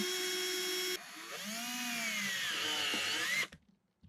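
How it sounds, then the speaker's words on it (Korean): A power drill bores into a cement wall in a kitchen while a shelf is being mounted, its steady high whine running close and loud for a few seconds, then shifting pitch under load before cutting off. "시멘트 벽에 구멍을 뚫어줍니다."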